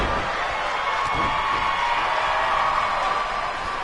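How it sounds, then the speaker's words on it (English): Crowd noise from the WWE 2K19 wrestling video game, a steady broadband roar of cheering that holds at an even level throughout without pauses. "I love how this crowd is cheering for Pete Dunne to do this."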